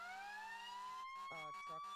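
Emergency vehicle sirens wail in the firefighting video game Into The Flames, in a Chicago fire roleplay: a steady rising siren tone, then a few short, choppy horn bursts, all fairly faint.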